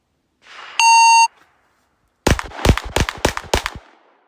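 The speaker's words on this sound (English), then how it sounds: "So first course of fire is 5 shots freestyle." A Gen 6 Glock 17 pistol fires five quick shots after a shot timer's electronic beep; the beep sounds alone first, then the five sharp, loud reports follow in fast succession and fade out.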